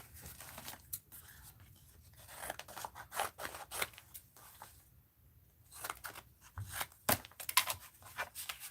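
Scissors trimming paper for an art journal, a series of crisp close snips in irregular clusters with brief pauses, quiet and alone.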